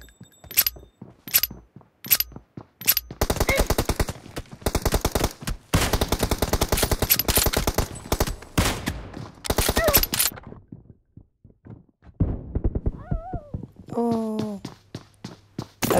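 Video game gunfire in a Kar98 versus M4 challenge on a warehouse map: single sharp shots followed by long, loud rapid-fire automatic bursts, then quieter shots with a voice talking near the end.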